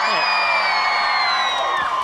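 A fan crowd at the Albert Park Formula 1 Australian Grand Prix cheering and whooping loudly, a sustained roar of many voices with high shouts riding over it.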